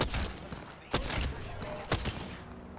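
Dense, continuous video game gunfire from a shooter match, with sharp loud shot bursts standing out over a steady barrage of firing.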